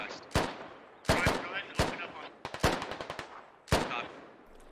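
A battle in the Squad video game brings sharp gunshots and falling rounds, with single loud cracks mixed with a rapid burst of several shots in quick succession, each trailing off into a short echo.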